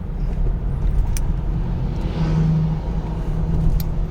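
A family car with about 60,000 km on the clock, used for school runs, out on a test drive: a steady low engine and road rumble with a faint higher whine, continuous throughout, no talking.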